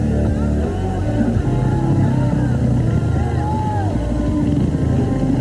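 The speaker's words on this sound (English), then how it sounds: "That's the sound of the lead motor." A steady lead motorcycle engine drone at a mountain bike race at Big Bear Lake fills the scene, continuous and loud, with crowd noise mixed underneath.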